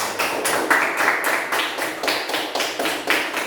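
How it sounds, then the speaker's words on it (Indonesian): Classroom hand clapping at an elementary school after a group discussion presentation, a small group of children clapping in a fairly steady rhythm, close and moderately loud, with no talking. "Kita kasih aplaus lagi dengan tepuk tangan"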